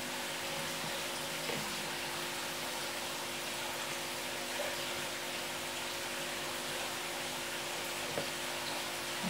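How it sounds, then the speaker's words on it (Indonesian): Dough for kue taripang frying in a wok of hot oil gives a steady, dense sizzling hiss that stays even throughout, with no talk. "Kita goreng dia sampai kecoklat-kecoklatan."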